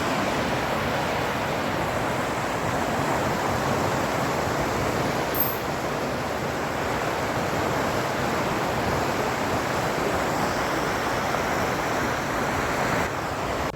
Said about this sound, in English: The river flowing, the sound was so soothing to the ear.